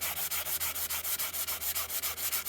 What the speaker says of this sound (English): This is a 120 grit sanding sponge, and I'm just going to lightly go over this to smooth out the surface